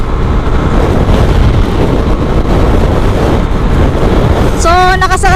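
A Honda Click 125i scooter held at full throttle near top speed gives a steady, loud engine drone buried under heavy wind roar. A voice speaks briefly near the end.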